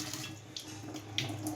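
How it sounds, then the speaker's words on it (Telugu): A kitchen tap runs while a pot is washed under it, giving a quiet, steady stream of water with small splashes and no voices. "గిన్నె కడుక్కుంటున్నాం."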